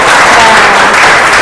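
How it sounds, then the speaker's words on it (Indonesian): Students in a classroom clap for group 3, a short, loud, close burst of dense clapping with voices mixed in. "Kita beri tepuk tangan dulu dari kelompok 3."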